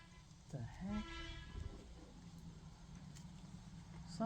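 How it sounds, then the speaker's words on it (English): A horn honks outside at a distance, several faint toots with a brief pitched blast early on and another at the very end, over quiet room tone. "Somebody's honking their horn out there."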